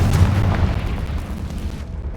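The Confringo fire spell exploding in the video game Hogwarts Legacy, a loud close blast with a deep low-end boom that rumbles briefly and then tails off.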